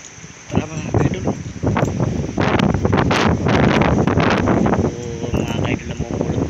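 Strong wind buffets the microphone outdoors in Naic during rain, a loud continuous roar with gusting surges and rustling, while someone talks over it.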